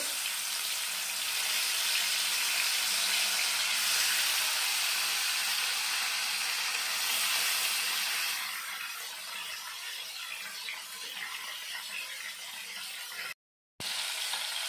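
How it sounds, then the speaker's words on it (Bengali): Bhola fish pieces rubbed with salt and turmeric fry in a pan of oil, giving a loud, dense, continuous sizzle that softens midway and cuts out briefly near the end. "মাছটা আমি ভেজে নেব"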